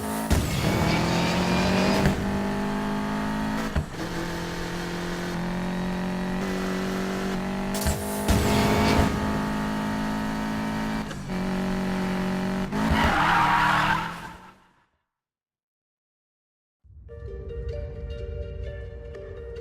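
Car in Need for Speed Payback driven to the garage: a loud engine drone with revving, repeated tire squeals and skids, cutting to silence before a quieter engine hum resumes.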